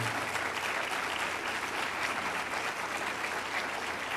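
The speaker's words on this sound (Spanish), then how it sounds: "¿Cuántos le dan un aplauso al Señor?" Steady, dense applause from a church congregation giving praise, many hands clapping continuously at an even level throughout, with no voices standing out.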